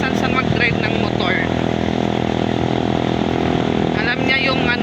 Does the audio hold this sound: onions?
no